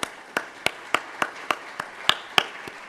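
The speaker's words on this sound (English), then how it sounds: "Let's give a nice round of applause for our panelists." Sparse, evenly spaced claps at a panel discussion on women and media in Africa, about ten sharp single hits in under three seconds, sounding like only a few people applauding the panelists.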